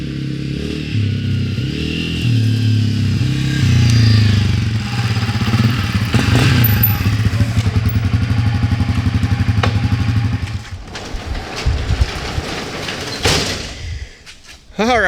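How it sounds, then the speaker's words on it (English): A 2020 Honda CRF250F dirt bike idles with a low steady engine drone, then the engine cuts and clattering and door or shutter noises follow as it is brought into a garage, with a voice speaking over parts. "Let's bring the dirt bike in here."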